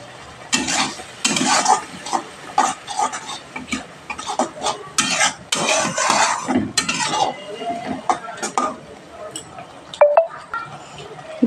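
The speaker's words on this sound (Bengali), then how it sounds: "প্রত্যেকটা মশলা দিয়ে ভালোভাবে এখানে আমি কষিয়ে নেব।" Spices being fried and stirred in a pan for an egg, potato and soybean curry, with a utensil scraping and clinking steadily against the metal over a constant sizzle, close up and fairly loud.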